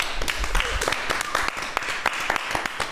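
A film crew applauding themselves at the end of a shoot, a small group clapping irregularly, close by, with scattered talking and laughter mixed in.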